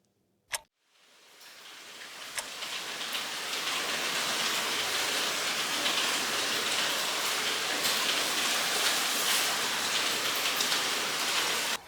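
Steady heavy rain at night, rising within a couple of seconds to a dense, constant hiss after a single sharp click, then pouring evenly with no voices.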